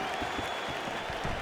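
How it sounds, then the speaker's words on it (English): Arena crowd at a mixed martial arts fight, a dense, continuous roar of cheering and clapping filling the space at an even level throughout the short moment. "The crowd's going crazy because they appreciate high-level mixed martial arts"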